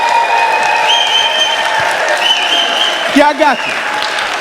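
A crowd at an education rally applauds and cheers with loud, sustained clapping mixed with tonal cheering or whistles, and someone speaks briefly near the end.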